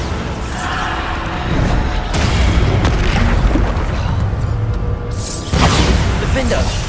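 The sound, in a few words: Bombarda blasting spell explosions in video game Hogwarts Legacy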